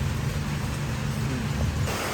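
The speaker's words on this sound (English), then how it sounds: "The rain has seriously picked up in the last couple of minutes" Heavy rain pours down as a dense, continuous hiss, loud and steady throughout with a low rumble beneath, no voices.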